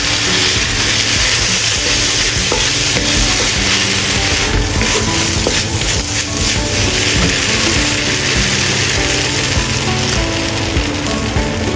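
Tomato fried rice being stir-fried in a pan after a splash of soy sauce, a steady, loud sizzle with a continuous broad hiss and low rumbling clatter running throughout, no voices.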